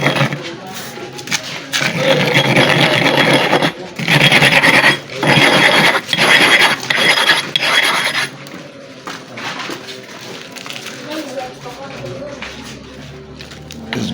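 A knife is drawn across a super-hard manual sharpening stone. Close, gritty rasping strokes repeat in a steady rhythm, loudest in the middle and then quieter.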